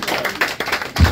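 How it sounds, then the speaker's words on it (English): Audience at a live comedy podcast in Honolulu claps and applauds, a brief burst of close, dense hand claps growing louder at the end. "Give yourselves a round of applause."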